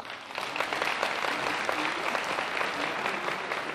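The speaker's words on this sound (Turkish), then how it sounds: "Alkışlıyoruz kendilerini canı gönlüne." An audience at a Republic Day celebration event in Hannover claps after the Turkish national anthem is recited, a full, dense round of applause that stays steady and fairly loud from start to finish.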